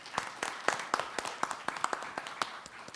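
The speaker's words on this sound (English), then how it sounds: "I would like to have a final round of applause for the panel" Sparse, distinct hand claps from a small audience after a panel discussion on transport financing, irregular and fairly soft, like a few people clapping near the microphone.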